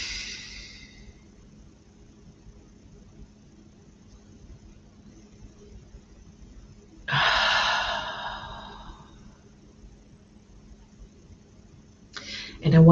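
Deep meditative breaths drawn in and out, a long airy inhale standing out clearly against a quiet room, with a shorter breath at the start and another near the end.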